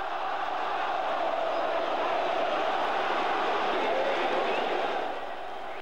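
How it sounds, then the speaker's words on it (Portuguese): Huge stadium crowd of São Paulo and Santos football fans, tens of thousands of voices roaring in a dense, continuous wash of cheering and shouting that holds steady and eases slightly at the end. "Ao todo, 70 mil vozes entusiasmadas."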